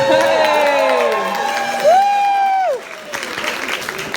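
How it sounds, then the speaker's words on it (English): A fan convention crowd cheers and claps while a rising, held whooping tone rings out, then the noise drops to scattered applause and chatter. "Yeah, round of applause for John."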